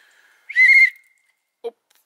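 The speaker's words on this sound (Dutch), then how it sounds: "Mag ik fluiten?" A person whistles one short bright note outdoors by a parked car before a walk, clear and close, then quiet apart from a brief faint chirp near the end.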